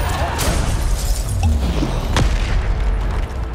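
Bombarda spell explosions in Hogwarts Legacy combat, deep booming blasts with a sharp crack midway, loud and close over a rumbling fight.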